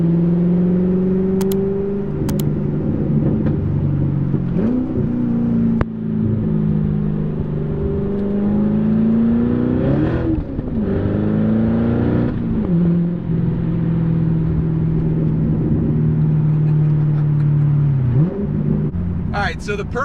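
A C7 Corvette fitted with an AWE Track Edition axle-back exhaust and X-pipe rumbles loudly close by, its engine note rising and falling through several revs over a steady idle.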